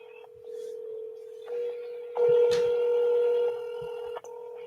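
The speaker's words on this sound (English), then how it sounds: "There's currently 7 phone lines calling them right now." Several telephone lines calling at once produce overlapping DTMF dialing tones and steady dial-tone hums, with beeps starting and stopping in layers, clear and electronic with no voices.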